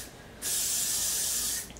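Freeze Blast hairspray sprayed around the hair: one continuous close hiss lasting about a second, loud and steady with no talking.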